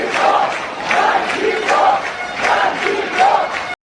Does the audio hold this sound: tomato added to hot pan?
no